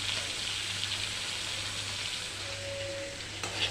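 Fish frying in hot oil in a home kitchen, a lunchtime dish: a constant close sizzle throughout, with a faint thin whine late on and a brief sharp click near the end.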